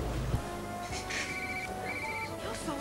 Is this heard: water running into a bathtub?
no